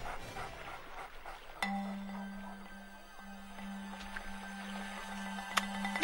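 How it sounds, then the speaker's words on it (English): A dog pants in quick, soft breaths under a steady droning hum, with a few sharp clicks scattered through the scene. "the dog?"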